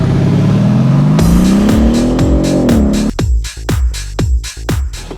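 A twin-turbo 4.6-liter V8 car (429 hp, 516 lb-ft) accelerates hard, its engine note climbing loud and close, then snapping through several rapid upshifts with sharp cuts between gears.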